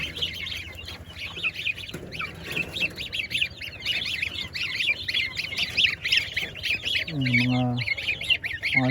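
A crowd of ducklings squawks and peeps in rapid, overlapping high calls, close and continuous, with a voice briefly joining near the end.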